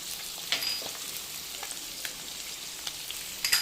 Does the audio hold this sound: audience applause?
no